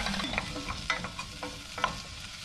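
Jerusalem artichokes and chestnuts sizzle in melted duck fat in a saucepan, a soft continuous frying crackle broken by several light scraping stirs.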